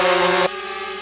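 A DJI drone hovers close by, a Spark or Phantom 3 Standard, giving a dense high-pitched whine that is loud and steady for half a second, then drops abruptly to a softer, thinner buzzing tone.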